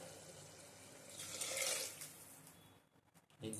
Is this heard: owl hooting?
no